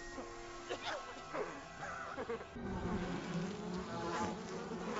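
A steady bee buzzing drones throughout a TV episode scene, with excited voices calling out over it and a few sharp cries early on.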